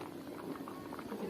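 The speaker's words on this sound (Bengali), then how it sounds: "আর এই যে দেখেন ভাতটাও কত সুন্দর টকবক টকবক করে ফুটে যাচ্ছে" Rice boiling in a pot on a gas stove in a home kitchen, a steady bubbling simmer with soft popping close by, a faint voice under the bubbling.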